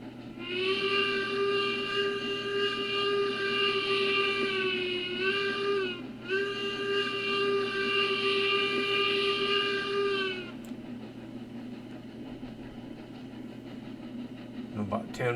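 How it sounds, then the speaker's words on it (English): Steam locomotive whistle in the train game Railroads Online, one long loud harmonic blast of about ten seconds with a brief dip midway, then fading to a low rumbling hiss of the engine. "Give it a whistle."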